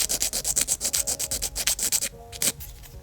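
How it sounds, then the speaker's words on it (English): An acrylic stiletto nail tip is filed with quick, evenly spaced rasping strokes, close and crisp, then a brief pause and one last stroke, with no talking. "But yeah, I'm gonna continue filing here,"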